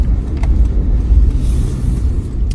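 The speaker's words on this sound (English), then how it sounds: "it's awesome to drive this car, man" A 2020 Mercedes-Benz GLE 400 cruising at about 50 km/h, heard from inside as a steady low road and engine rumble with faint tyre hiss, smooth and continuous.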